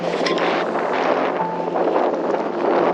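Steady wind gusts buffet the microphone with a broad rushing roar, loud and continuous, with no talking.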